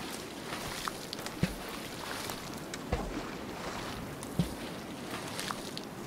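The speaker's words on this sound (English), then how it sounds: "Why do I keep hearing splashing?" Water splashing in the survival video game Sons of the Forest, a faint, continuous watery wash with a few soft thuds scattered through it, no talking.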